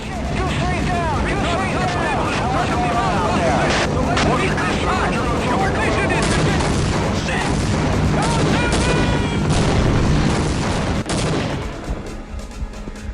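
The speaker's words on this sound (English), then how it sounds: "the Ospreys come under fire by Zen spacecrafts" Gunfire in Half-Life: Opposing Force as Osprey aircraft come under attack from alien craft: dense, continuous bursts of shots and booms mixed with shouting and radio chatter, loud and busy throughout before easing off near the end.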